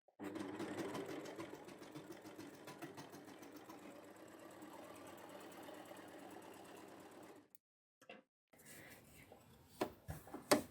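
Overlocker (serger) sewing two layers of fabric, a steady fast whirring run for several seconds that stops, followed by a few handling clicks and knocks.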